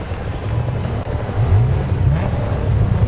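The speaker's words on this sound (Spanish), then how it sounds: "música para que se escuche simplemente el coche" A car engine in the Dakar Desert Rally video game hums and revs steadily, rising slightly in pitch midway, loud and continuous with no music or voices.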